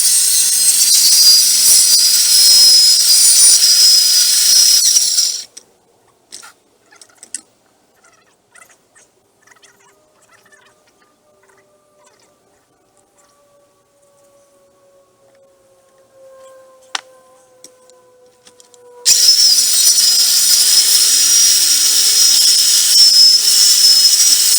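A power saw cuts through rotten deck boards in loud, harsh bursts at the start and end, with a quiet stretch in between.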